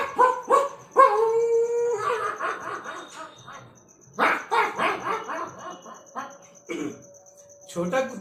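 A man imitates dogs barking and howling, mixing quick yaps, a drawn-out howl and bursts of barking in an uneven string, with some laughter-like sounds breaking in between the imitated calls.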